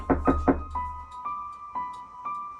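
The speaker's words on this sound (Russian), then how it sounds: "Вчера в 12 часов ночи мы услышали стук в дверь." Knocking on a door late at night: three quick heavy knocks close by, followed by a few softer, evenly spaced taps with a ringing tone.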